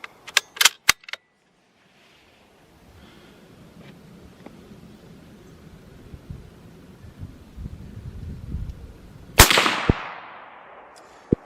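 A CZ 527 bolt-action rifle in 7.62x39 firing steel-case ammunition, one loud sharp report near the end after a stretch of quiet outdoor rustling, with a few clicks of the action at the start.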